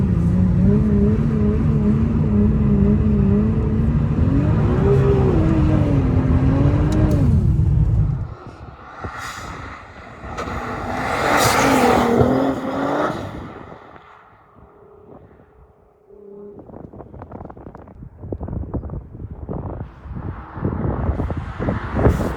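A Nissan R35 GTR doing a donut on ice: a loud engine drone that rises and falls with revs, then a gusty rush as it sweeps past, followed by scattered crunches and clatters.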